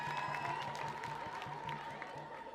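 Sustained applause and crowd noise at a fundraising event as donors are thanked, a steady wash of clapping with some cheering, fairly quiet and continuous throughout.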